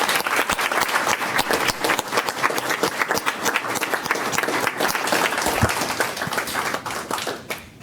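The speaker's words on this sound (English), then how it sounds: "How about one more round of applause?" A round of applause fills a city council meeting chamber in Evanston, steady dense clapping from many people held for several seconds before tapering at the end.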